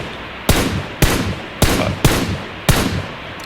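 Five loud, sharp gunshots from PUBG Mobile, each with a short rumbling tail, fired in an uneven rhythm about half a second apart, close and with no talking.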